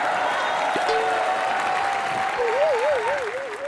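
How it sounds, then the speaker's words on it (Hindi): Studio audience on a comedy television show claps in a loud, continuous burst lasting several seconds, overlaid by a sustained electronic tone that slides and then wobbles up and down. "एक बार अखरोट के लिए तालियां तो बजाओ यार।"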